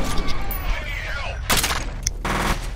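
LMG machine gun fire in the F.E.A.R. video game, with rapid bursts in short spurts mixed into game sounds, with talk over them.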